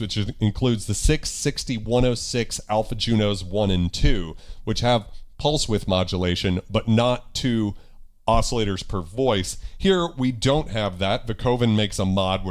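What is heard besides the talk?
No distinct noise like a dog, phone or traffic.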